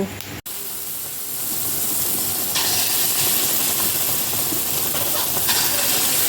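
Jackfruit fritter batter frying in hot oil in a rustic village kitchen: a steady, loud, broadband sizzle and hiss that holds constant throughout, with no talk over it.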